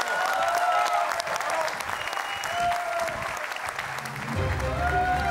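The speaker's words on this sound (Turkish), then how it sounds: "Alkışlarınızla." Studio audience applauding on a Turkish TV quiz show as a contestant is called to the stage, a dense, steady clapping wash from a large crowd that swells again near the end.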